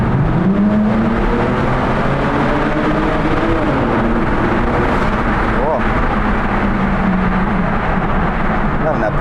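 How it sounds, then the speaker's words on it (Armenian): A BMW E92 M car engine heard from inside the cabin with a window lowered, a loud, steady, broadband roar with a rising and falling low tone as it revs. "մեքենայի ձայնը"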